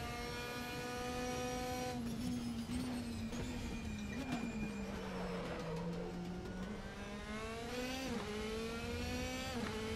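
Race car engine in the RaceRoom sim racing game, a steady sustained drone rising and falling with throttle and gear changes, loud and continuous throughout with no talking.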